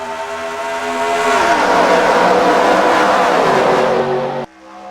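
Simulated race cars in the NR2003 game roar away at a green-flag start at Michigan, a loud layered whine of engines climbing in pitch together before cutting off abruptly near the end.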